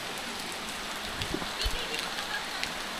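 Steady hiss of heavy rain pouring down at a lakeside view deck near Taal Lake, a dense continuous wash of sound with a few faint thumps and clicks mixed in.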